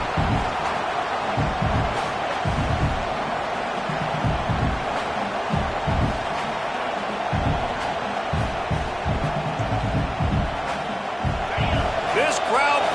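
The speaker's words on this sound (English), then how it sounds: "This crowd bringing the energy and noise early." Stadium crowd at a Texas A&M football game, a dense, constant roar of distant fans under a commentator's continuous talk, with occasional thumps and rising cheers.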